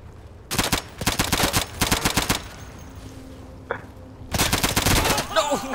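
Submachine gun fire in the video game Insurgency: Day of Infamy, three loud rapid bursts of close shots separated by brief quieter gaps, with a faint voice in between.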